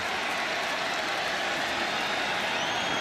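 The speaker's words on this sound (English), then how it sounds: "the crowd is excited about Drake Maytown right here" An NFL preseason football stadium crowd between the Philadelphia Eagles and New England Patriots cheers in a dense, loud, continuous roar with applause, sustained and even throughout.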